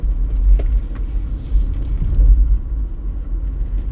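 A car rolls through the streets of Harlem in New York City, its cabin filled with a steady, heavy low road rumble and a few faint rattles and clicks above it.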